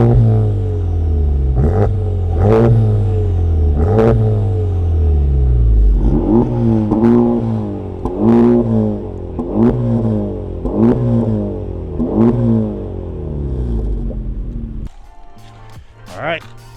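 Honda Civic FL5 Type R fitted with an AWE Touring exhaust, engine idling and blipped repeatedly, deep rumbling revs rising and falling in a regular rhythm, loud and close before cutting off near the end.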